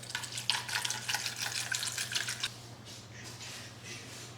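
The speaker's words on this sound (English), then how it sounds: "fill it with enough water just to cover the bones" Tap water runs steadily into a pot of bones for stock, a loud splashing gush that stops after a couple of seconds and leaves a faint trickle.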